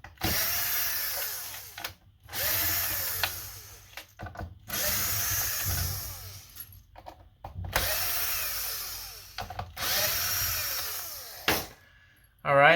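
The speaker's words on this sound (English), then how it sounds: "So now we're just going to take out those long screws." Electric screwdriver whirring in repeated bursts to remove long T10 screws from an Xbox Series S console, close and fairly loud, with short pauses and small clicks between screws.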